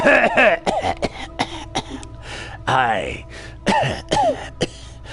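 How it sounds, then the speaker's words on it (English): A man coughs in a rough fit in the video game Planescape: Torment, several harsh bursts with strained throat-clearing and groaning breaths between them, close and fairly loud. "the movement suddenly sends him into a bout of coughing"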